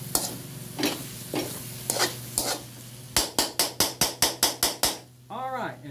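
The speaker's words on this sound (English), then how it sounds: "If you can just scrape that off the bottom there, that'll be good and brown for your chili sauce." A utensil scrapes browned chili off the bottom of an aluminum pan: a few spaced strokes, then a quick run of about a dozen sharp, rhythmic scrapes close to the microphone, over a low sizzle.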